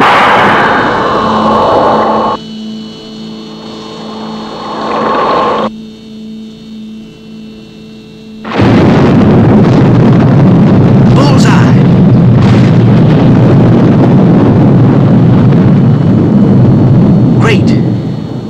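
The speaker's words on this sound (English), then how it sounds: "Missiles fired on 25 degree calculated error. Target ship destroyed." Film sound effect of a missile launch and explosion destroying a target ship at sea: a loud, sustained roaring blast follows quieter rumbling, continuing for about ten seconds.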